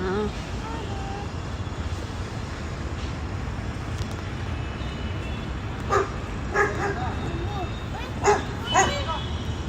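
Dogs barking near the gate of a dubbing studio: a few sharp barks in the later seconds, set back from the microphone, under steady chatter and a voice.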